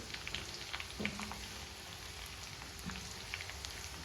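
Garlic and green chili frying in very hot oil make a soft, continuous crackling sizzle with scattered small pops, quiet and close.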